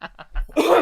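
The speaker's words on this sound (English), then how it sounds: "I just can't get rid of this cough." A person with a lingering post-COVID cough gives three or four quick, close coughs in a row, and the last one breaks into a longer, harsher burst.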